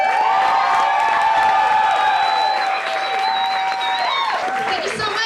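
A crowd at a live performance claps and cheers, with whoops and shouts rising over the applause, and a few voices are heard through it.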